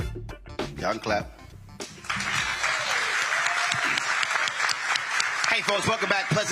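An audience in a Nashville church at a live town hall breaks into loud, sustained clapping and cheering, which follows a few seconds of someone speaking and continues steadily to the end.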